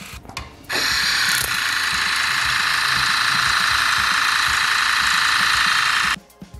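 An electric oral irrigator running at maximum strength shoots a jet of water into a beaker, giving a loud, steady hiss that starts abruptly and holds for about five seconds before cutting off.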